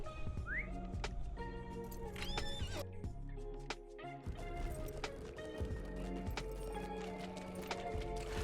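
Horse hooves clip-clop in a steady running rhythm while riding in a video game, sitting under busy game music and effects throughout.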